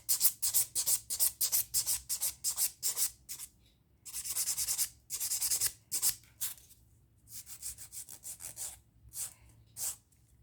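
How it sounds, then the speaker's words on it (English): A nail buffer rubs briskly back and forth across a fingernail, giving fast rhythmic bursts of soft scratchy friction in several runs with short pauses between them. The sound is close and clear, with no talking. "there we've got the buffing done"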